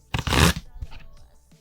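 A Disney Lorcana Illumineer's Trove box from the Azurite Seas set is opened by hand: a close, loud burst of cardboard and packaging rustle, followed by softer handling noises.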